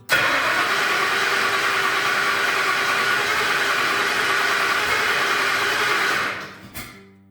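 The engine of a 1972 Ford Mustang Mach 1 fitted with Holley Sniper EFI fires up and runs as a loud, steady broadband roar for about six seconds, then cuts off abruptly, with a brief sputter after.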